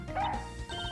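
Missile, a dog in the video game Ace Attorney Investigations 2, gives a short, close yip-like bark lasting under a second.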